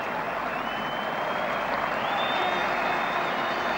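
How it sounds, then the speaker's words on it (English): A cricket crowd at the 1991 England vs West Indies Test applauds Desmond Haynes reaching his half-century, a broad distant wash of clapping held steady throughout, with a faint tone running over it. "So the early applause of the day goes to Desmond Haynes for his half-century."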